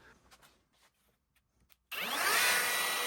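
A power drill bores shelf pin holes through a jig into a cabinet carcass, starting abruptly after quiet handling sounds and running loud and steady to the end.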